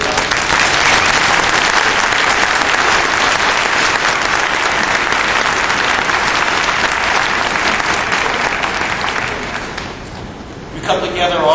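A large commencement crowd at UMBC applauds families and friends in sustained, even clapping for about ten seconds, fading near the end as a voice begins speaking.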